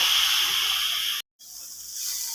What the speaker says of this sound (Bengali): সব কিছু এবার ভালো করে একটু ভাজা ভাজা করে নেব।